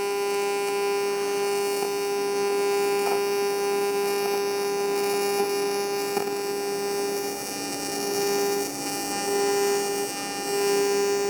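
Welding a bead along a thick-to-thin steel edge at around 190 amps gives a steady, continuous electric buzz with a crackling hiss that holds at an even level for the whole stretch, with no talking.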